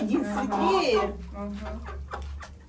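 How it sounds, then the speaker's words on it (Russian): A speckled rooster makes a few close clucking calls over a low rumbling background, while a person talks nearby. "Петушок, петушок рябой, да."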